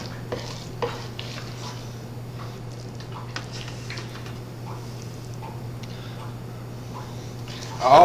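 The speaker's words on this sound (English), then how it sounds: "we're just filling these eggplant shells up" Spoon scoops shrimp stuffing with green onions into hollowed eggplant shells, producing soft scattered clicks and scrapes against the dish over a low steady hum, close and quiet.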